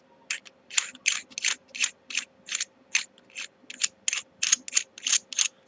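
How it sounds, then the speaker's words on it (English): Threads of a WarLion Aztec telescopic vape mod in 18350 mode being screwed, a close, crisp series of about fifteen evenly spaced ratcheting clicks with nothing else heard. "And again, the thread action you can hear there is really good"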